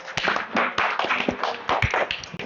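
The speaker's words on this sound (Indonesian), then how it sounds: "Oke, tepuk tangan untuk Hexel." A class claps for a student after a presentation, a short burst of dense, close handclaps with a few louder slaps, lasting a couple of seconds.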